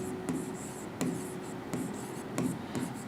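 Marker or chalk writing on a board, with several short scratchy strokes spaced by brief pauses, close and fairly quiet.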